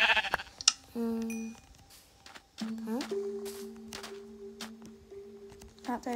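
Several Minecraft sheep bleat in short, clear bursts, one after another, with a few sharp clicks between them, fairly close and loud.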